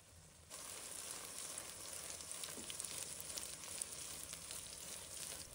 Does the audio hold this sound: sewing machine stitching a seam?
no